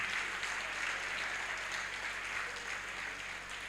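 Conference audience applauding a speaker, a doctor, at a union workshop and delegate conference in Port Harcourt, with sustained, even clapping from a crowd heard at a moderate distance, with no speech over it.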